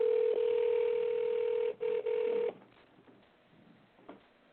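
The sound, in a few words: telephone ringing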